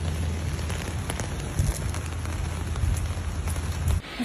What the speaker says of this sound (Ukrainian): Чого мене Іспанія зливою зустрічає?